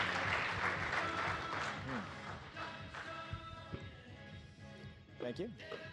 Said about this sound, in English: if we can get a round of applause for Loris and Brian to come up here and talk